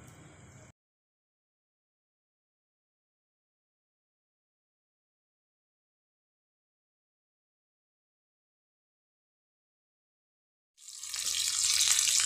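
Pieces of pomfret fish drop into hot oil and burst into a loud, hissing sizzle at the very end, after a long stretch of near silence.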